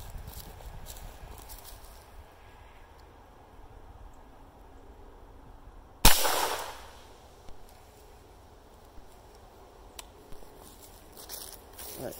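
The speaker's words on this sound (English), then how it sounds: "we're going to shoot it with a PC9 carbine and see what kind of hole we put through it" A single sharp 9mm shot from a PC9 carbine punches into self-healing target sheeting, one loud crack with a short ringing decay against a quiet outdoor background, followed by faint small clicks.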